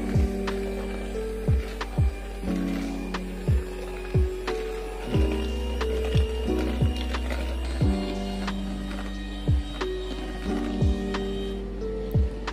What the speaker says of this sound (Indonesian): Habis itu lanjut kita mixer ke kecepatan tinggi ya teman-teman ya